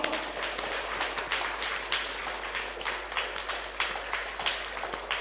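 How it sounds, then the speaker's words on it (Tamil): A church congregation clapping hands together in praise, producing dense, steady applause of many hands throughout, fairly close and loud, with a low hum underneath and no clear speech. "கைத்தட்டி ஆண்டவரை மகிமைப்படுத்துவோமா?"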